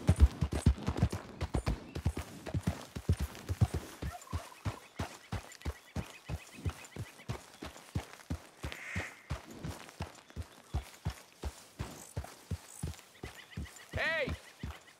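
Horse hooves in Red Dead Redemption 2, a steady rhythmic gallop of clip-clopping beats throughout, close and clear, with a brief voice and faint game sounds over it.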